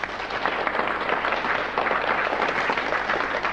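Studio audience applause for a musician on a radio broadcast, a dense, steady wash of clapping from many hands that holds without a break.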